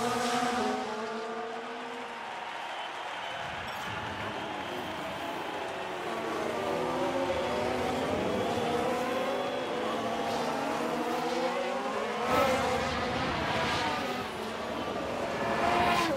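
Formula 1 race cars in the video game F1 Manager, engines whining and shifting pitch as the cars overtake, a steady moderately loud drone with passing swells.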